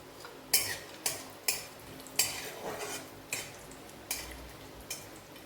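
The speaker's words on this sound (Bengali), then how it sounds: "ঘিটা গরম হলে আমি এটা ভেজে নেব।" Rawa (semolina) being stirred in hot ghee in a pan for mango halwa: a spoon scrapes and knocks the pan roughly every half second, eight or nine close, crisp strokes over a faint sizzle.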